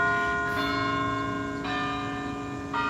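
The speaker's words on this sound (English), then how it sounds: "the bell ringing" Church bell ringing on the Johns Hopkins campus, several clear, resonant strikes, each leaving a long, sustained ring that fades before the next.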